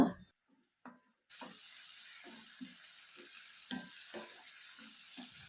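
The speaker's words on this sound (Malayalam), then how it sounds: "ഇനി ഇവിടെ ഈ ചേർത്ത് കൊടുത്ത തക്കാളിയും കൂടി അത്യാവശ്യം നന്നായിട്ട് തന്നെ വഴറ്റിയെടുക്കുക" Onion and tomato sautéing in oil in a pan for chicken dry roast: a steady close-up sizzle with repeated scraping stirs of a spoon against the pan, after a brief quiet start.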